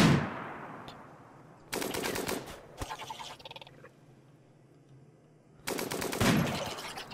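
Interior defenses open fire in the colony game RimWorld, with loud rapid bursts of automatic gunfire separated by short gaps and single shots, over a quiet ambient background.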